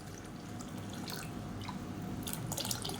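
Thick coconut milk trickles and drips into a pot of black kavuni rice and urad dal porridge, soft liquid splashes and patters over a low steady background hum.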